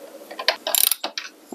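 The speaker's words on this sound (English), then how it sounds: "We've got a 14 millimeter socket for this particular one." A socket wrench with a 14 mm socket ratchets while tightening a bicycle crank arm bolt, giving a short burst of quick, close metallic clicks, with a few separate clicks before and after it.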